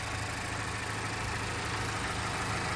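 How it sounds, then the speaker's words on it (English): A 2023 Mazda CX-5 G25 engine idles steadily with an even, low hum and no changes in pitch or loudness, with no talking. "nice and quiet engine as well"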